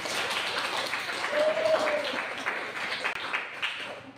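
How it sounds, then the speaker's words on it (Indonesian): A classroom of students claps for a presenting group, a moderately loud, uneven patter of hands with some voices mixed in. "mari kita tepuk tangan untuk kelompok 1."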